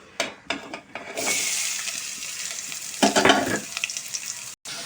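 Onions dropped into about two tablespoons of hot oil in a pan, a sudden loud sizzle after a few clattering taps, then a steady crackling fry with a brief stir partway through.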